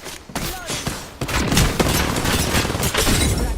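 Dense gunfire rattles in a fight in the battle royale game Apex Legends, with rapid overlapping shots and booms in a loud, continuous barrage and no talk over it.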